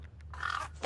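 A crow in the horror game True Fear: Forsaken Souls gives a single short, harsh caw, close and moderately loud.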